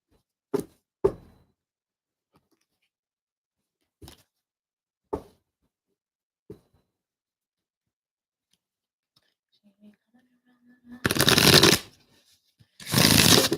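Several short, sharp riffles of a tarot deck being shuffled, spaced apart, followed by two longer bursts of rapid card shuffling, close and fairly loud.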